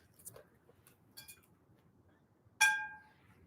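An art glass bud vase is handled, giving a few faint light touches followed by one clear ringing clink that decays over about a second in a quiet room.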